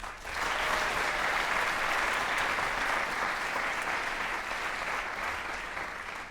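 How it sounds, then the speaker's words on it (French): An audience claps at a Christmas concert in France, a dense, sustained wave of applause that swells in quickly and holds steady for several seconds before easing off. "vous pouvez applaudir Inès Matadi et Jeanne Michard."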